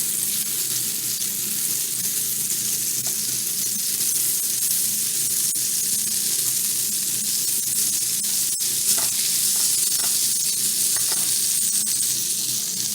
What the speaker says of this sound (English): add your butter and let that melt down